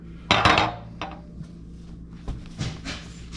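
Metal tongs clank against a pot while a toy is pulled from hot water, a loud clattering burst followed by a few lighter knocks and taps.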